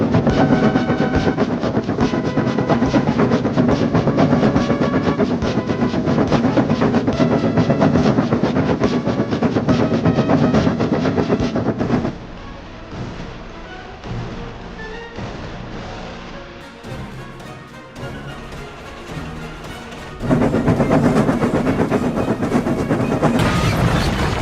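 Gordon, a toy train, runs along the railway with a steady, loud rolling rumble and rhythmic clatter, drops to a quieter run midway, then swells back to full volume.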